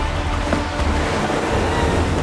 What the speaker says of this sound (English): The sea stirs, slowly water pulls back and rises into towering walls on each side